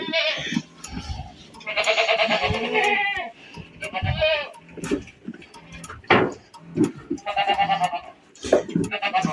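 Goats bleat repeatedly at close range near a milking machine, several long wavering calls overlapping one another, with some shuffling and clicking noises between them.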